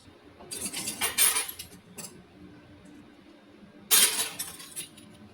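Plates, glasses and cutlery clinking as a table is set for a meal, two bright bursts of clattering a few seconds apart with quieter taps between.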